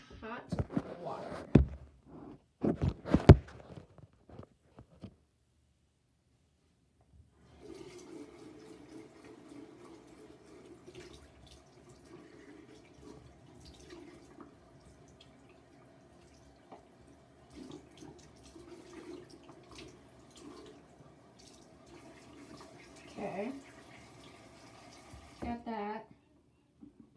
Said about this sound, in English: I'm gonna put some soap on it and hot water.